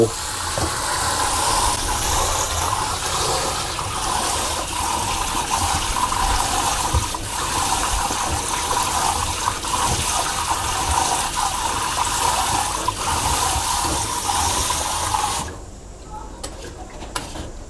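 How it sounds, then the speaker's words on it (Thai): Running tap water pours steadily over sago pearls held in a sieve, rinsing off their starchy slime; a continuous close splashing hiss lasts about fifteen seconds, then stops abruptly, leaving a quiet room. "เทสาคูใส่กระชอนเลยครับ แล้วก็เปิดน้ำล้างเมือกสาคู"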